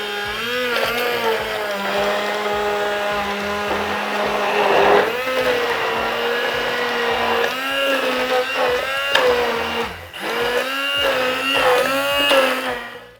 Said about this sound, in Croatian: Kada sve namirnice spojimo, naravno uz Russell Hobbs štapni mikser dobit ćemo jedinstvenu teksturu